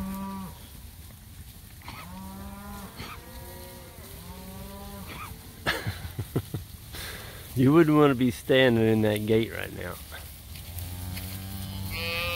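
A herd of cattle, a cow in heat trailed by about seven bulls, moos loudly in repeated long calls, close and distant, with someone talking over and between the lowing.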